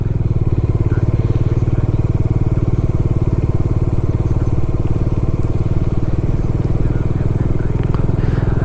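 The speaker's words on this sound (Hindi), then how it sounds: "बाइक यहाँ पर स्लिप हो रही है।" Motorcycle engine running loud and steady on a snow-covered mountain road at Bhairav Ghati near Harsil, with a rough, crackling drone throughout and faint voices underneath.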